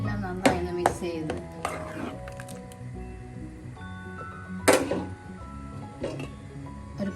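A spoon stirs green mango, prawn and coconut curry in a pot, making a few soft clinks and scrapes against the metal, spaced out over a faint steady background hum.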